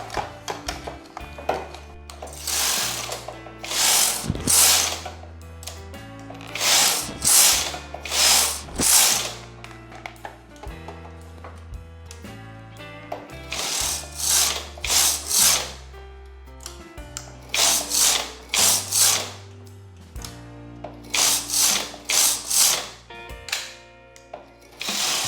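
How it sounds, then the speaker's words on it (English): A domestic knitting machine knits rows across all needles, its carriage sweeping back and forth in repeated loud whooshing, clattering passes separated by brief pauses, close and rhythmic. "I knitted 2 rows on all needles."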